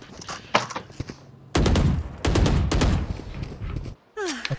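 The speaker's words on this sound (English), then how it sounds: "I think I got shot from behind" Gunfire in Valorant: a few separate shots early, then loud bursts of rapid fire in two dense clusters, followed by a short quiet gap and a final burst.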